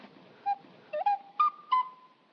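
A small toy whistle is blown in four short, bright toots, each a slightly different pitch, fairly quiet against a silent background.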